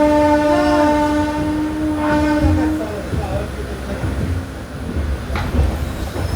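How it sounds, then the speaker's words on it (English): A 12134 Mangaluru Mumbai Superfast Express train pulls into Suratkal station: a loud sustained horn blast over steady rolling rumble and clatter of the carriages, with people talking nearby. "We are pulling into Suratkal station."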